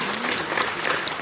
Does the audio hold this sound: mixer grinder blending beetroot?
no